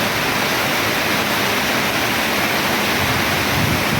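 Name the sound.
heavy rain at night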